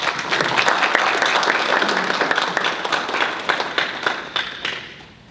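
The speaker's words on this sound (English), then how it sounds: "Let's give her a round of applause." Sustained applause from a crowd, dense clapping that thins out toward the end with a few scattered claps.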